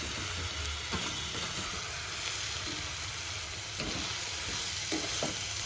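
Soaked poha flakes being stirred into an onion and spice mixture in a frying pan for Marathi-style kanda pohe, with continuous soft sizzling and scraping stirs throughout, fairly close and steady, no talking.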